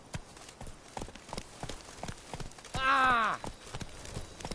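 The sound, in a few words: horse Roach galloping in video game The Witcher 3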